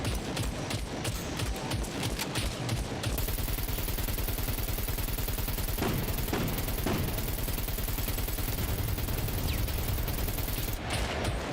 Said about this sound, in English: I wanted to see how many bullets it would take to deal with just a gun